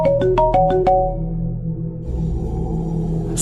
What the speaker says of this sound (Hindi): तभी अचानक उसका फोन बजता है।